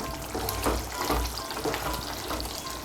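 Potato and spiny gourd curry bubbles and sizzles in a pan over raised heat, with soft wet stirring sounds close by in a continuous, moderately loud bed of frying noise.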